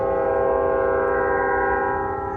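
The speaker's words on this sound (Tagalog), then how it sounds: "Ang lakas ng tren." A loud train passes close by in Canada, its horn blaring as a sustained, steady chord over the rumble of the cars, with no voices.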